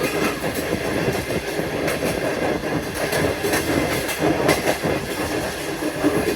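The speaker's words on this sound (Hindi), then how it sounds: "और अब हमारी ट्रेन कराची की आबादी से गुजर रही थी।" A passenger train rolls steadily through the populated outskirts of Karachi, its wheels and carriages producing a continuous, moderately loud rumble with faint clickety-clack and occasional metallic squeals, with no voices.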